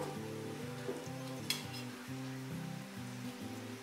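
Marinated mutton with a cup of fried onion sautéing in a pot for shahi biryani, a steady sizzle broken by repeated scraping stirs of a spoon and a light metallic clink.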